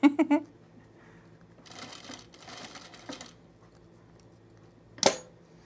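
A sewing machine stitches gathers on a boho tunic, with a faint burst of stitching in the middle and a sharp louder clack near the end as the bobbin runs out.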